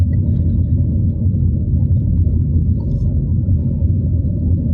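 Steady low engine rumble and road noise from inside a moving car, constant and unbroken, with no voices.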